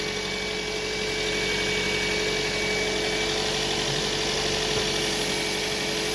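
Toyota 2NZ engine with a misfire idling after an overhaul, a steady close mechanical drone with constant vibration and faint high whine, running on without pause.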